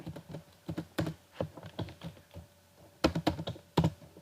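Computer keyboard typing as a manufacturing date is entered into Marg billing software, quiet irregular key clicks in small bursts with a couple of louder clusters, close and without speech.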